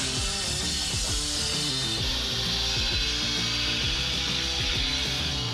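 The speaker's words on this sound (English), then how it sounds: "We need to grind those corners." Power grinder grinding the corners of a metal part for an overlanding vehicle build, a loud, continuous harsh grinding that rattles throughout, with no talk.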